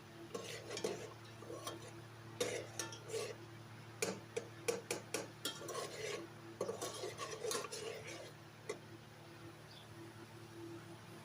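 Tomato, onion and garlic masala for Lahori beef karahi frying and being stirred, with a steady low hum beneath repeated scraping clinks of a spoon against the pan in an uneven rhythm, fairly close.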